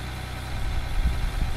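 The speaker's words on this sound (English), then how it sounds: "Oh, the engine turbos up for this. Revs up." Tractor engine in the Farming Simulator video game, a deep rumbling drone that swells slightly as it revs, steady and fairly loud with no talk.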